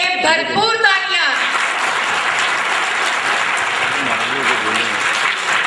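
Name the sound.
audience applause for children at school event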